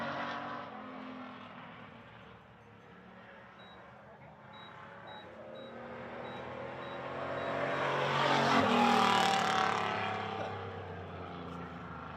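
Legends race car lapping Hythe Motor Speedway, its engine droning at a distance, then swelling louder as it passes nearby around the middle before fading again; a voice talks faintly underneath.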